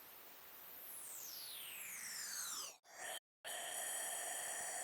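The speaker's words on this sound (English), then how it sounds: "this is blowing" Breathy air blown through the lips produces a falling, whistling tone, broken by two brief pauses before the hissing blowing resumes.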